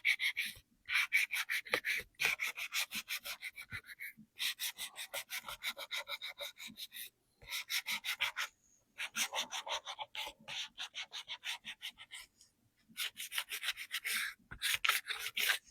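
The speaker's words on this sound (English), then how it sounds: "Just a little light sanding." Light hand sanding on wood gives soft, rhythmic back-and-forth rasping strokes in bursts with short pauses between, close and fairly quiet.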